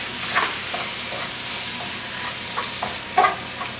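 Ground lamb browns in a pan with a constant bright sizzle, while a utensil stirs and breaks it up in a few scraping knocks, loud and close with no talking.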